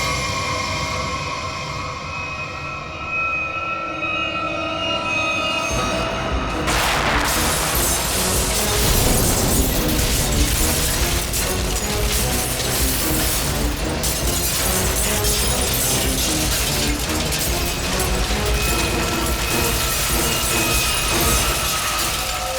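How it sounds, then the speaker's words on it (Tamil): A bomb blast in a TV crime drama: a low rumbling build gives way to a sudden loud burst, then a long dense spell of crashing, shattering debris and rumble that holds steady to the end. "ஒரு பாம் வெடிச்சாலே நிலைமை இப்படி இருக்கும்"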